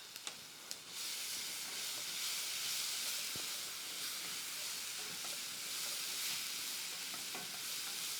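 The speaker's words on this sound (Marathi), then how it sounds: "लसूण छान परतून घ्यायचा" Garlic and cumin frying in hot oil in a pan, a few faint clinks at first, then a steady bright sizzle and hiss with occasional light stirring scrapes.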